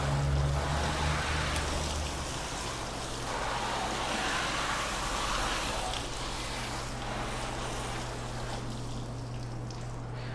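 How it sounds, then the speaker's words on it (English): Continuous wash of water rinsing down a car's panels after an iron remover spray, a steady close hiss and splash with a low machine hum underneath, no talk. "We'll rinse both sides off, and then we'll spray this again."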